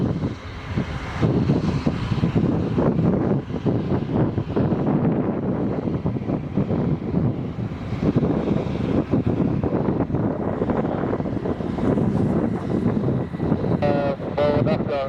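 A Ryanair Boeing 737-8AS takes off at Lisbon Airport, its jet engines giving a loud, sustained roar buffeted by wind noise on the microphone for the whole stretch.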